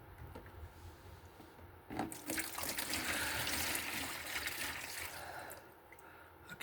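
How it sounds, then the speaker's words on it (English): Water splashes out of a bucket for a few seconds, a brief gush and trickle after some faint handling knocks, fairly quiet and close. "Just tip this water out."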